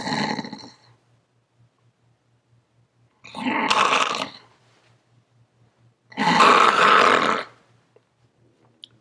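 A voice imitates Scrooge's heavy snoring in three long, rasping snores spaced a few seconds apart, each louder than the one before, with silence between them.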